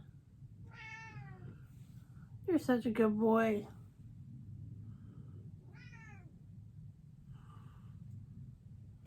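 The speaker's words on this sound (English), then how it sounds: "What's up, kitty cat?" A pet cat meows several times, one longer, louder call in the middle and shorter meows around it, close by over a steady low background hum, with a person speaking softly.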